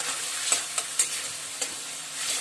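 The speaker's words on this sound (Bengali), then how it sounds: "দিয়ে একটু গ্যাসটাকে বাড়িয়ে ভালো করে মিশিয়ে নেব সবগুলোর সাথে।" A whole-tomato dish being stirred and mixed in a frying pan over raised heat, steady sizzle punctuated by several quick spatula scrapes and taps, close with no talk.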